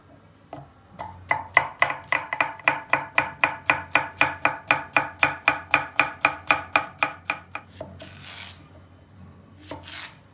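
A knife chops zucchini into thin julienne strips on a board in a steady, fast run of about two dozen crisp, close strokes, followed by a pause and some soft rustling and scraping.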